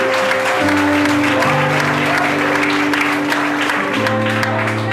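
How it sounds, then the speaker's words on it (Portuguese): A church congregation claps during a lively Pentecostal-style service, rapid crowd clapping layered over sustained keyboard chords and loud amplified music that fill the room. "aplaude e glorifica Deus aí."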